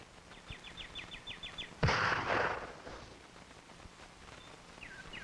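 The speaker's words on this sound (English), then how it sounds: "Wayne's checking out a .22 target rifle, standard 540X." A single sharp, loud report from a Remington .22 target rifle, standard 540X, fired outdoors near tractor tires, with a decaying echo, faint bird chirps before and after.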